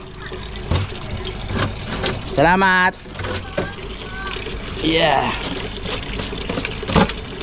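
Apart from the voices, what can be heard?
water being drawn into a bucket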